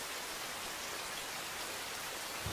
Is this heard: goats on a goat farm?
no